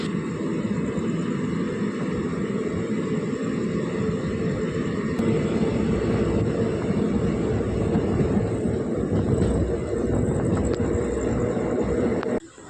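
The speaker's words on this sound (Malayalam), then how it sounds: "അങ്ങനെ തലശ്ശേരി റെയിൽവേ സ്റ്റേഷനിലേക്ക് നമ്മുടെ വണ്ടി എത്തിച്ചേർന്നിരിക്കുകയാണ്" The Maveli Express, running Thiruvananthapuram to Kannur, pulls into Thalassery railway station toward platform two, its loud steady rumble and rattle continuous and close for the whole stretch, cutting off abruptly at the end with no talk.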